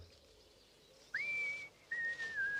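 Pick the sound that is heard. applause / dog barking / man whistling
man whistling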